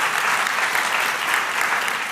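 An audience claps steadily, a dense, even wash of applause from many hands that holds throughout.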